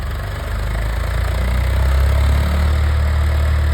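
A tractor engine idles nearby with a steady, heavy low rumble and faint vibration, holding an even level throughout with no speech.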